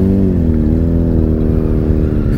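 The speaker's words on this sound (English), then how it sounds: "this guy's exhaust is very loud" A loud-exhaust Indian motorcycle idles and rumbles close by, a deep, steady engine drone with a slight pitch shift as the revs change, filling the whole stretch without speech.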